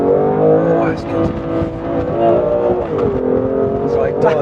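A Dinan-tuned BMW M2 Competition pulls hard under acceleration, its engine note rising and shifting steadily as people chat inside the cabin over the drone.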